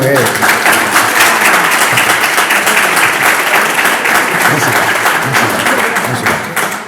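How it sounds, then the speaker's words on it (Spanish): A podcast studio audience applauds the show's technical assistant Diana, a steady, loud burst of clapping that holds for several seconds, with voices mixed in, before tapering off at the end. "Un fuerte aplauso para ella, ¿no?"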